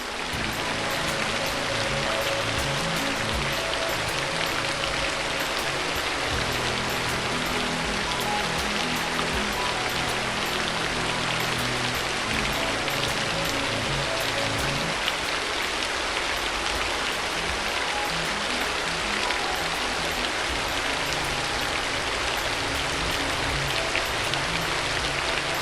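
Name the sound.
heavy rain falling in Chennai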